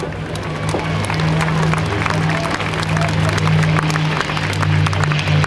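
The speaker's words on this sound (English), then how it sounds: "how about a big round of applause for Bob Carlton?" Crowd applause at a naval air station airshow, dense clapping and cheering sustained over a low steady engine drone.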